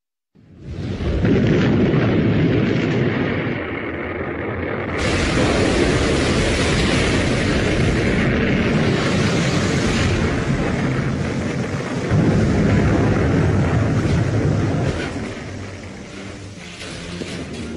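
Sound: Titan rocket launch failing

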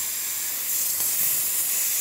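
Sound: espresso machine steam wand hissing

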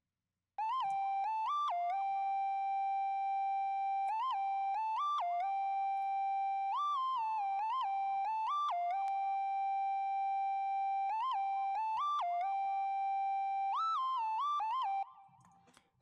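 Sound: R&B Triangle Lead synth from Omnisphere

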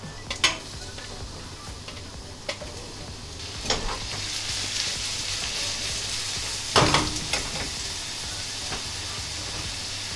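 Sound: mushrooms stir-frying in oil in a pan

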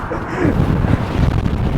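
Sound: strong wind blowing

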